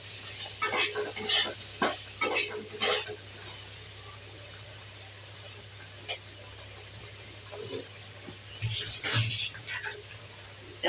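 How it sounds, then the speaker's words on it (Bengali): Ginger being grated by hand in a kitchen, short bursts of raspy scraping strokes in quick rhythm, close and moderately loud over a low steady hum. "দেখো আদাটাকে আমি গ্রেট করে দিচ্ছি একটু"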